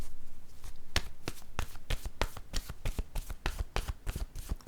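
Tarot cards are shuffled and drawn, a rapid series of crisp riffling slaps and flicks repeating in a fairly even rhythm, close and clear with no talking.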